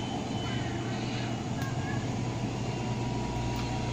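A homemade stove built for waste oil, burning wood, roars with a steady, loud, broadband rush that stays constant from start to finish.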